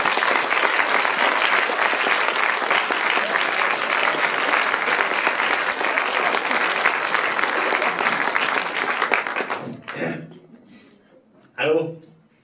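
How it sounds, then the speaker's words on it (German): Loud, sustained applause from a poetry slam audience greeting a performer onto the stage, a dense clapping roar lasting several seconds before fading, followed by a brief burst of crowd reaction. "Begrüßt bitte mit einem Riesenapplaus auf dieser Bühne Robin"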